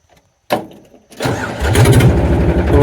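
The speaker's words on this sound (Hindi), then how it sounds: "तो करते हैं ट्रैक्टर को स्टार्ट।" A tractor fitted with a new silencer cranks with a short burst, catches on the second try and settles into a loud, close, chugging diesel idle with a rapid regular pulse.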